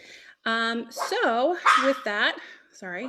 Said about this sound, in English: that's my dog in the background. She's saying hi.